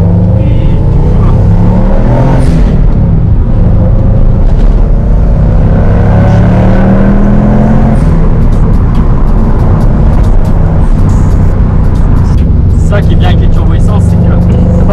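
A Subaru Impreza WRX engine drones loudly and steadily from inside the car on the road, with its pitch climbing and falling as the car accelerates through the gears.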